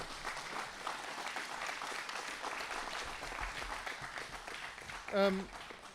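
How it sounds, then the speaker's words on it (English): Applause for mayoral candidates at a local election event, a moderate crowd clapping steadily throughout, with a brief voice cutting through near the end. "I think they all deserve a round of applause for being such good sports"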